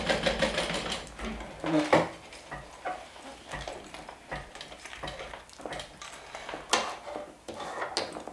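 A sewing machine stitches a fabric bag in uneven bursts, its motor whirring and needle clattering close by, with short pauses between runs and no voices.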